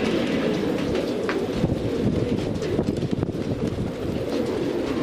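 A large flock of about 380 pigeons creates a dense, steady rustle and cooing murmur outdoors, with wind buffeting the microphone and a continuous low rumble underneath.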